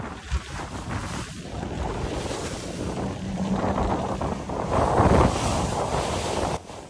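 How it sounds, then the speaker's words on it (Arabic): Strong wind buffets the microphone over a steady rumble of water, with waves slapping and surging as a small boat pushes through rough sea in the Maldives. "المركب كان صغير والبحر كان عالي جدا، فكان الطريق كله اكشن"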